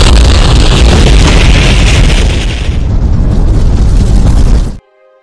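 A wartime bomb explosion bursts out as a loud, sustained blast with a roaring rumble that keeps going for several seconds, then drops abruptly to near silence.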